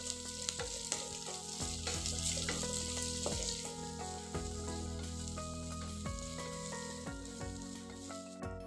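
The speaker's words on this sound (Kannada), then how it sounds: "ಒಂದು ಹಾಫ್ ಕಪ್ನಷ್ಟು ಕಟ್ ಮಾಡಿದ ಈರುಳ್ಳಿ ಹಾಕ್ಕೊಂಡು ಮತ್ತೆ ಇದನ್ನು ಒಂದು ಎರಡು ನಿಮಿಷ ಫ್ರೈ ಮಾಡ್ಕೋಬೇಕು" Chopped onions, about half a cup, frying in a pan of hot oil for a poha dish, a steady close sizzle with soft stirring scrapes recurring throughout, no talking.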